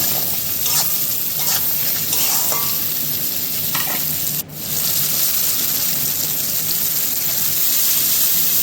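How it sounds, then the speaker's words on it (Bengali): Salted leafy greens and vegetables being stirred in a hot pan, a steady close sizzle with scraping strokes of a spatula throughout, continuous and fairly loud with no voices. "লবণ দেওয়ার পরে নেড়ে চেড়ে নিলাম"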